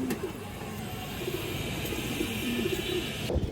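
Silver beji pigeons coo in low, repeated throaty phrases close by, a pair among other birds, over a steady background hum.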